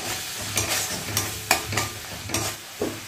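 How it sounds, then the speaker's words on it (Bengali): Spatula stirring turmeric, cumin and coriander powder into tomatoes in a frying pan, several distinct scraping strokes at a steady pace over a soft sizzle, close and alone. "তো এটাকে দিয়েও খুব ভালোভাবে একটু মশলাটাকে মিক্সড করে নেব।"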